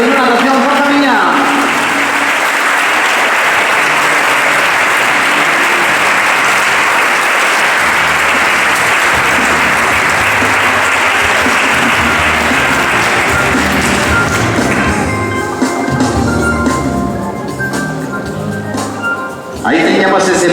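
Loud, dense applause from a gala audience fills twenty seconds without a break, greeting swimmers at the 2024 Galician Swimming Federation awards, then thins slightly near the end.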